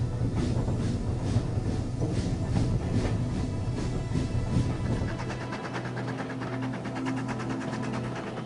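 A train rolls past Goathland steam railway station in Yorkshire, a steady rumbling drone with rhythmic clickety-clack of wheels over rail joints, the beat quickening toward the end, heard without any talk.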